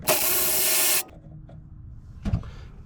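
A wrench breaks loose a bolt on a Lexus GS450h front strut, with a loud one-second mechanical whirring burst followed by quiet clinks and a dull clunk.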